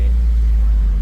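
A car fitted with a Honda K20 Type R engine pulls away in first gear, giving a loud, steady low engine rumble close by that holds for about a second.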